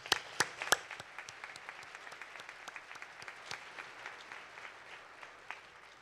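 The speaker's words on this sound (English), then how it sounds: "we owe for you a round of applause" Luncheon audience breaks into applause, a steady patter of many hands clapping at moderate distance, starting with a few sharp claps and gradually thinning out.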